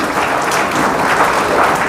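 Loud, dense applause from a large audience at a speech on girls' higher education, steady clapping filling the whole moment with no voices over it.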